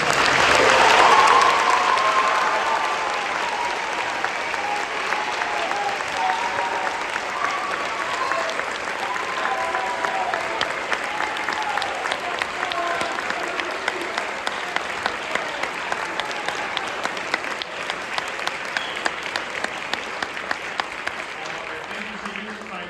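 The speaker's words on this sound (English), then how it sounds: "Let's have a round of applause." Sustained audience applause fills a spring band concert hall, steady and fairly loud for over twenty seconds, with a murmur of voices and faint cheering mixed into the clapping.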